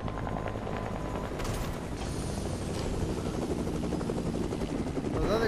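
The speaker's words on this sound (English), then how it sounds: "The chopper right here? Oh, he took off." A helicopter takes off in a video game, a steady whirring rotor drone throughout, with faint game effects.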